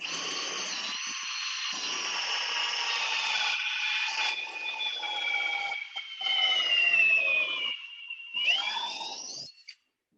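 A drill bit bores a hole into a timber beam at a Vermont timber-frame shop, giving a steady high whine that slowly sinks in pitch for about nine seconds before cutting off abruptly.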